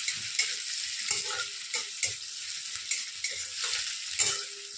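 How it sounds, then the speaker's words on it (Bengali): Onions frying in a pan for masala egg pasta, a steady close sizzle broken by repeated stirring scrapes and clinks at an uneven rhythm, with no voices. "খুব বেশি ভাজার দরকার নেই পেঁয়াজগুলো।"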